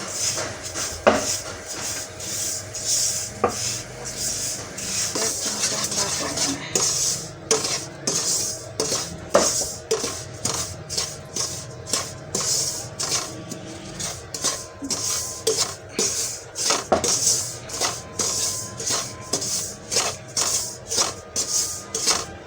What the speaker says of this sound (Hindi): देसी घी में भून रही हूँ मैं इसको